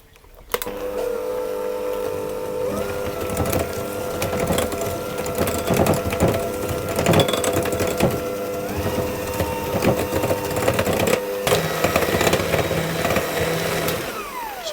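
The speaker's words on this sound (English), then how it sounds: "I'm going to put my whole egg and my egg yolk in, and I'm going to mix those together." An electric hand mixer whirs continuously as it beats a whole egg, an egg yolk and almond extract for a jam tart, a close, steady motor drone with beaters rattling and clicking against the bowl.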